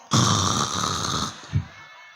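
A voice imitates snoring in one long nasal rasping snore, loud and close, followed by a short softer snort.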